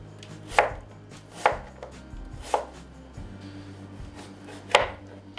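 An onion being chopped with a knife on a board, four or five separate heavy thunks spaced about a second apart over a low background hum.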